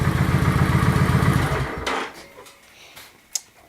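A Kawasaki Vulcan 900 Classic motorcycle idles with a loud, close, steady rumble, then cuts off after about two seconds, leaving faint clicks and a small clatter in the quiet.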